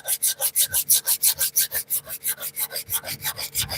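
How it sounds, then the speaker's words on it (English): 120 grit sandpaper with WD-40 rubs back and forth in quick, steady strokes, a dense rasping swish repeated roughly twenty times, close and alone. "this is WD-40 and some 120 grit stuff"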